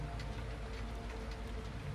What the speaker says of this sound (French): quelques gouttes de pluie éparses tombent au sol